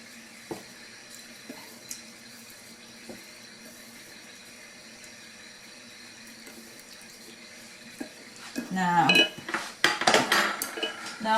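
After a long quiet stretch with faint clicks, a spoon clatters and scrapes busily against a bowl while mixing pork adobo ingredients with Worcestershire sauce, close and fairly loud.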